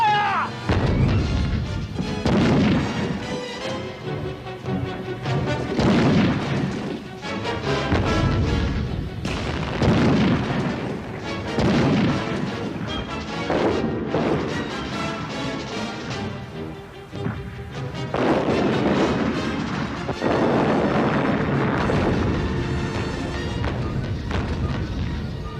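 Tank guns and heavy battle blasts fill a war drama scene, with repeated booming impacts and crashes layered over dense dramatic music throughout.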